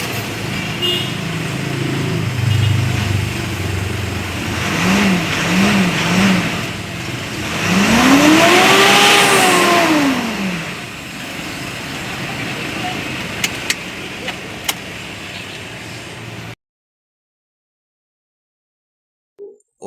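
Mitsubishi Montero 2015 engine, after repairs for low power, is started and revved with a rising and falling rev sweep, loud and close, then settles to idle before cutting off.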